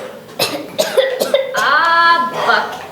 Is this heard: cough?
yes